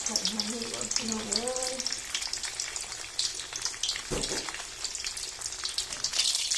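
Eggs fry in a pan in a home kitchen, with a steady crackling sizzle and spattering pops close by, while a voice talks over them at first.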